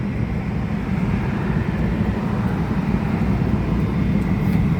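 A diesel parking heater mounted underneath runs and blows warm air, giving a steady, close, continuous whooshing roar with no pauses and no talking.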